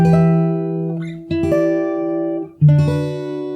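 Fingerstyle acoustic guitar plays the closing bars of a pre-chorus, sustained picked chords ringing over a steady bass, with a couple of brief note changes and fresh plucked attacks.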